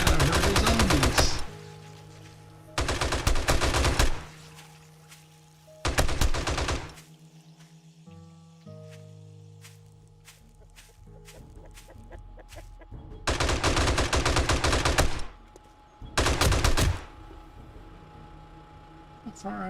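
Automated M60 and SMG turrets in 7 Days to Die rip off long, loud bursts of rapid fire at a zombie horde during a blood moon, several sustained volleys separated by quieter gaps with game tones underneath.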